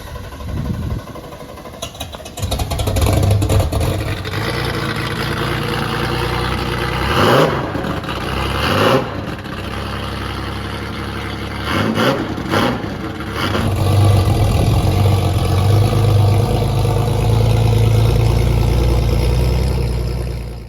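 A Porsche 997 engine cranks and fires, revs sharply a few times, then settles into a steady, throaty idle close by.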